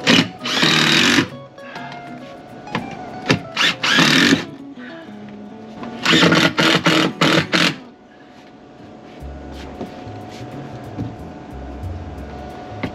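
Power screwdriver driving screws through MDF cabinet panels into wall studs inside a Ram Promaster camper van, several loud whirring bursts of a second or two each with pauses between, then quieter handling noise.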